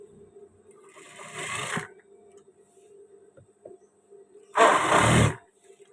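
Sewing machine running in two short bursts while locking a seam with a backstitch on a waistband, each burst a loud buzzing whir about a second long, separated by quiet pauses with faint clicks.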